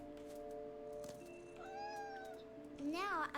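A cat meows in a video game scene, a couple of clear, rising and falling calls close up, the last one louder, over quiet background hum.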